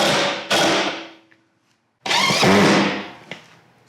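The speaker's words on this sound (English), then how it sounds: "you're going to take your self-tapping screws and you're going to essentially screw it in where this line meets, right inside the rail" Self-tapping screws are power-driven into the rail of a Cascadia Vehicle Tents Summit Line rooftop tent, two loud whirring bursts from the driver separated by a brief pause of near silence.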